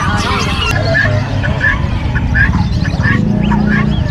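Several ducks honk and quack in short bursts over a constant low rumble at an animal market in Bocaue, Bulacan, with people talking in the background.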